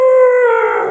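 A wolf's angry howl rings out loud and close, a single sustained tonal wail with rich harmonics that wavers and sags slightly toward the end.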